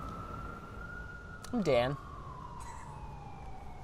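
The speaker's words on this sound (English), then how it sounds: "The siren's perfect." A police siren wails faintly in the distance, its tone slowly falling, while a voice speaks briefly up close.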